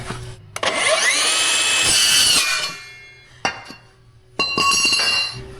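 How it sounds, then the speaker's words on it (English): A power saw cuts into a metal gooseneck part for an off-road trailer hitch, giving a loud, close, ringing screech that stops, briefly restarts and then runs again with clinking metal. "Let's cut it about 1 inch long."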